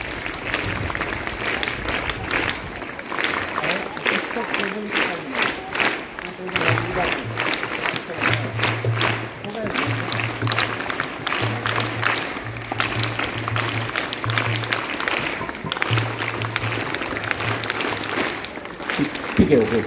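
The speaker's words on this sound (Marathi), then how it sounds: "एकदा क्लॅप करा बरं" Audience applause at a live event: dense, steady clapping runs through the whole stretch, with a voice and a low humming tone sounding underneath.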